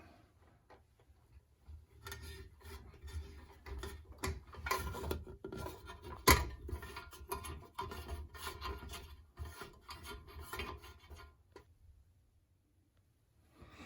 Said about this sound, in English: just kind of pried that loose with my flathead around the edge there